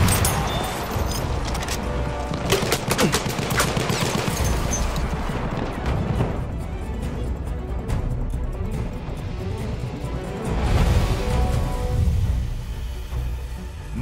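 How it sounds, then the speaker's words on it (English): Dense battlefield gunfire in the video game Battlefield 1, with continuous loud, overlapping machine gun bursts, distant booms and chaotic noise throughout, under occasional shouted voices. "Machine gun!"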